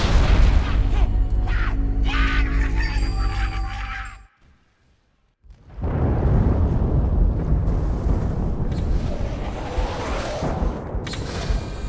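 Heavy artillery barrage of final protective fire landing danger close in Halo Reach, heard as loud, dense booming rumble with droning tones, a sudden drop to near silence for about a second, then a renewed roaring wall of blasts and debris.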